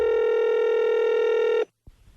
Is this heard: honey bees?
no